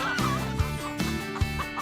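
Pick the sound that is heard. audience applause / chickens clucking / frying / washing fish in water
chickens clucking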